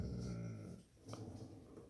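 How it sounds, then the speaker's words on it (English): A pet dog growls low and then whimpers faintly indoors, a quiet, close rumbling vocalization that trails into soft whines, with no talk over it. "My doggy Zeke is talking to me"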